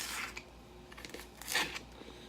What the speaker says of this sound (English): I'm just gonna cut these into thin strips.